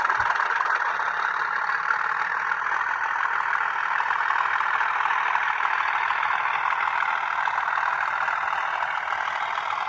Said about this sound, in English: I thought what we could do is do a max performance pull away. So I'm just going to open the throttle fully up